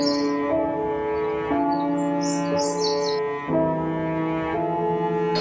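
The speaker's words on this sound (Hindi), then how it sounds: "वहां से एक चिड़िया जा रही थी।" A small cartoon bird chirps in short bursts of high tweets over a sustained musical background in an animated story.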